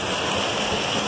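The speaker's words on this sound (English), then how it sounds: "Third waterfall still down to just one single side, but the water has come up a little bit." A waterfall running with risen water on a rainy day, pouring in a continuous dense hiss and rush with no breaks and no voices over it.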